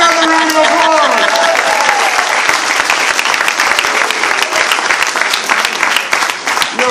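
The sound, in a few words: rally crowd applauding Ruben Diaz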